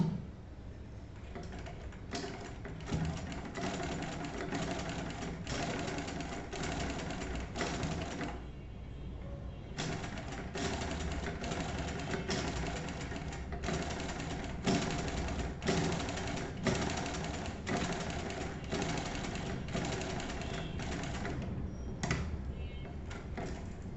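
Close rhythmic ticking and clacking from a sewing machine stitching a seam while the upper thread tension is checked, sewn in bursts with a short pause partway through.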